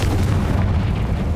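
A Confringo explosive spell is cast in Hogwarts Legacy, giving a sustained, loud, rumbling boom with a heavy low-end roar that fills the whole moment without any voices.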